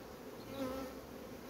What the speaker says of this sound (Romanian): albină pe ramă nouă